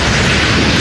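A deep, loud rumbling boom for a volcanic eruption, sustained and broadband throughout the short burst with heavy low-end roar and no voices.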